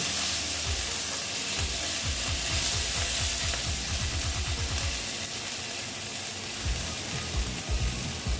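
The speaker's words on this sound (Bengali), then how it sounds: "দিয়ে ভালো মতন আবার একটু কষিয়ে নেব" Steady, loud sizzling of spices frying in a pan for a fish roe dish, with rhythmic scraping strokes of stirring running through most of it, no voices.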